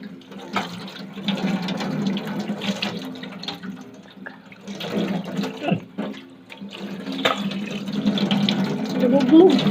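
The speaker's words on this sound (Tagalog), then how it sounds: "Tubig yan, tubig." Water runs from a tap in uneven gushing bursts that swell and ease, close by, with voices talking over it at times.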